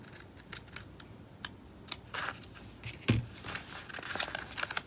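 Scissors cut through planner paper for a DIY Happy Planner inspiration board, giving close, crisp snips and light papery crinkles scattered irregularly over a quiet room with no talking.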